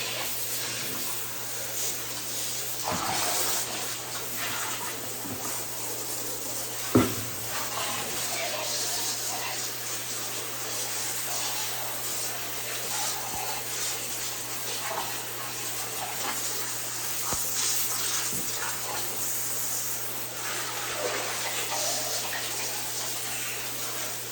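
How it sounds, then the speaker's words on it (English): Water from a hose squirts steadily down a hot tub drain, a continuous close rushing and splashing that runs the whole time, with one brief knock partway through. "I always put the hose down the drain and make sure it's squirted out"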